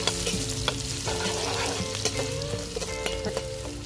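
Whole shallots and chopped onions sauté in a pan for a ghee mutton dish, giving a steady close sizzle and crackle broken by the sharp scrapes and clicks of stirring. No one speaks.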